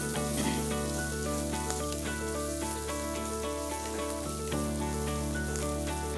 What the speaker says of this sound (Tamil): அது கூடவே பொடியாக கட் பண்ண பச்சை மிளகாவும் சின்ன வெங்காயம் பொடியாக கட் பண்ணி வச்சுருக்கேன், அதையும் சேர்த்துக்கிறேன். இது சேர்த்து வதக்கிக்கோங்க.